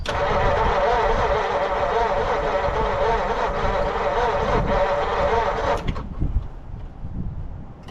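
The starter of a 1940 Mercury Eight engine, unstarted since the 1970s, cranks loudly and continuously for several seconds without the engine catching, then cuts off abruptly, leaving a few faint clicks and handling noises.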